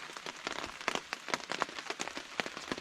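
Rain patters on a Dyneema tarp in a forest camp, a dense irregular drumming of close, crisp droplet hits, soft overall and with no voices.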